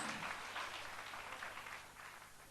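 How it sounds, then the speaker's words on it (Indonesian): Sunday church congregation in Indonesia claps after a call to give applause, a soft, continuous patter of many hands that gradually fades. "Mari berikan tepuk tangan."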